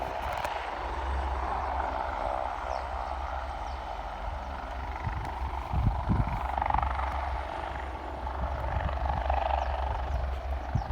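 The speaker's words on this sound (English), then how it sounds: "the very last aircraft for the day to take off" A helicopter takes off at Aberdeen airport, its engine and rotor making a steady, loud whine and thrum throughout, with rotor thumps pulsing slightly stronger midway.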